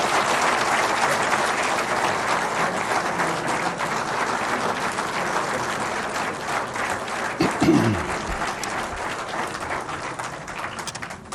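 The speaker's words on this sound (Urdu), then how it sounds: "آپ کی بھرپور تالیوں میں۔" Loud sustained applause from an audience welcoming Prime Minister Imran Khan at an Islamabad ceremony, a dense, even wash of clapping that holds steady for the whole stretch before tapering slightly at the end, with a brief thump near the end.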